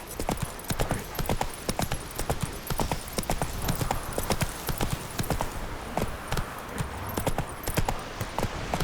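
Hooves clop in a steady fast rhythm, close and clear, as a horse trots along in The Witcher 3 on Xbox, with only faint background sound and no talk.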